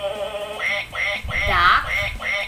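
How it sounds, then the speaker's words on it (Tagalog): A duck quacks in a quick run of several nasal calls, loud and close, with no talk over it. "duck,"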